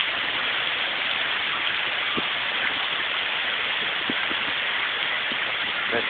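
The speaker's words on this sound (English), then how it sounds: "well guys, it just started raining." Steady rain falls around a tree, a dense continuous hiss of drops with a few sharper drips close by, loud and even throughout with no talk.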